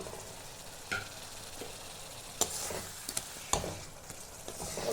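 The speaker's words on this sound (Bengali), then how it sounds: "মশলাটা সুন্দর করে ভাজা হয়ে গেছে। এখন আমি মাছটা এখানে দিয়ে দেব।" Spices fry in hot oil in a pan for a gondhoraj fish curry, a soft steady sizzle broken by a few sharp clicks and scrapes of stirring, with no voices.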